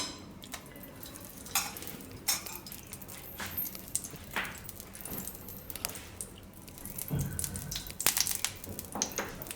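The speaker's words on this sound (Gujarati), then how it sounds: "આને આપણે ઘીમાં શેકવાના છે, તો થોડુંક ઘી લગાવી લેવું." Radish paratha roasting on a griddle in ghee, with faint intermittent sizzling, light scraping and utensil clinks at moderate distance; no voices.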